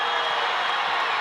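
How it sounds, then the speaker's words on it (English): Crowd noise at a high school basketball game, Highlands against Laurel Highlands, during a close third quarter: a loud, steady roar of cheering fans filling the gym without a break. "And listen to the crowd."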